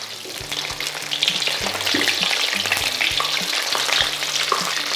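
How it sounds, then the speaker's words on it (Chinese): Flour-coated sea bass pan-fries in a generous layer of oil over moderate heat, crackling and spitting continuously up close with small bursts of popping. "熨好锅后我们煎鱼，"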